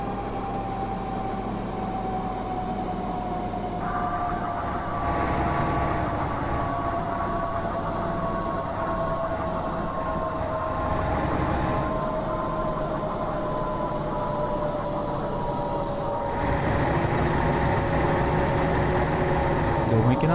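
An old Scania truck towing a loaded B-train of cement in Euro Truck Simulator 2, its engine droning and lugging low with audible gear changes that shift the pitch, a steady loud rumble throughout.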